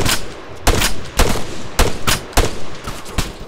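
Gunfire in the military game ARMA 3, a series of loud, sharp shots spaced irregularly about every half second, close and punchy with short echoing tails, and no talk.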